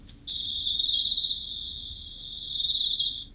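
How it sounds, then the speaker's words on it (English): A single insect, likely a cricket, trills steadily and continuously in a natural habitat soundscape, a loud sustained buzz with faint background ambience and no voices. "This is an insect over here."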